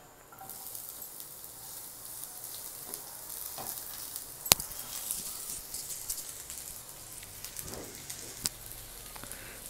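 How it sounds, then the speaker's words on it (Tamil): Onions sautéing in a pan for a mushroom curry, a steady soft sizzle and crackle with an occasional stir or clink of a utensil against the pan, close by and with no talk. "வெங்காயத்தை வதக்கிக்கலாம்."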